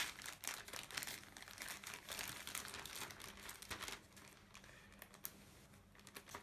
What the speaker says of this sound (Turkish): Yine kilitli poşetimizi açıyoruz.